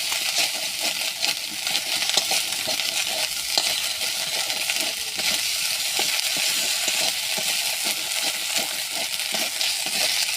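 A pan fries and sizzles steadily while a spoon stirs and scrapes through it in a constant, fairly loud crackling wash with small metallic clinks, during preparation of dal puri.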